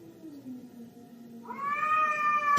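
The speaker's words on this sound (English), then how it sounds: "Taylor Swift's cats having sex." Cats caterwaul in long, wavering yowls, one low drawn-out moan rising into a louder, higher wailing meow, close and without any voices.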